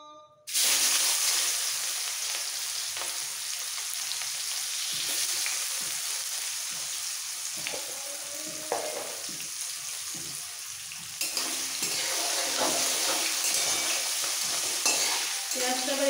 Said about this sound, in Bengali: পেঁয়াজটা আবার একটু ভাজবো।